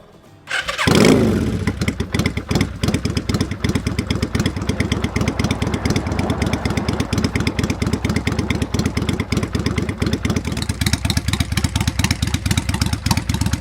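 A Yamaha Virago XV535 motorcycle fitted with a pod filter on the carburettor cranks briefly, then catches and settles into a steady, loud, close idle with an even pulsing beat, no talking.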